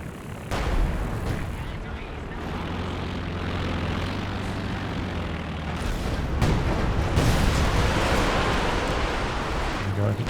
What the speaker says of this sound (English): Katyusha barrages onto the Pack 43, wipes out the crew